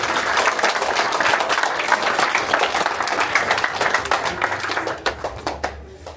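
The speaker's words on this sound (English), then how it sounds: "Put your hands together louder" Guests at a First Holy Communion celebration in Goa applaud loudly in a dense, continuous burst of clapping that thins into a few scattered, separate claps at the end.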